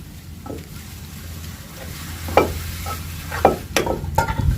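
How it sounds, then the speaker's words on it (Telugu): Washed chicken pieces sizzling and frying in a hot pan, stirred with a utensil that scrapes and knocks against the metal a few times over a steady, close sizzle. "ఇప్పుడైతే చికెన్ అయితే కడిగి పెట్టుకున్న చికెన్ అయితే వేసేసుకుంటున్నాను"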